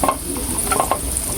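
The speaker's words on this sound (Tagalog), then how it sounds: "Lagay na rin po natin ating sibuyas." Onions dropped into a hot frying pan for sarciadong daing na pusit sizzle steadily and close, with a few light stirring scrapes and clinks, no talk.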